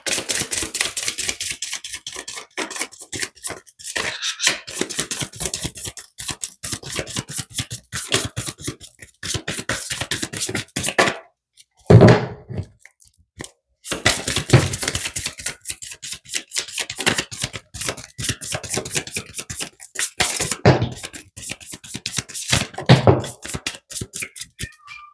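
Oracle cards being shuffled by hand, a long run of rapid crisp riffling and flicking clicks in bursts, with a brief pause partway through and no talk.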